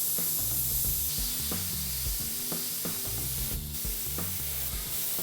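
A Sparmax Max-4 entry-level airbrush with a 0.4 mm nozzle sprays in a steady, close hiss, with soft low clicks and taps scattered through it.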